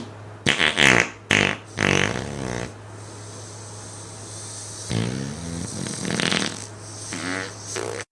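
A voice imitates a sleeping character snoring and farting: loud raspy snores and buzzy, spluttering fart noises in a series of bursts with short pauses between them.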